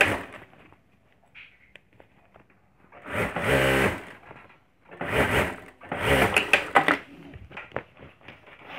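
A sewing machine stitches a zip and lining onto a homemade bag, running in three loud close bursts of fast whirring needle action, with softer handling clicks and rustles between them.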